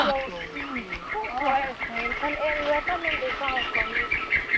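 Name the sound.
birdsong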